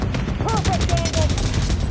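Rapid suppressive gunfire in The Division Resurgence, a loud continuous burst of automatic shots rattling close up for the full stretch, with brief voice-like chirps over it.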